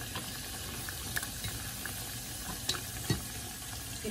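Sun-dried pork frying in a pan, a steady close sizzle with occasional soft clicks and stirring scrapes, no voices.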